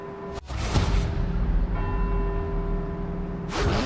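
A church bell in the Forza Horizon 4 video game, set in Edinburgh, rings with a sustained, humming tone over a steady background din, ringing through most of the clip.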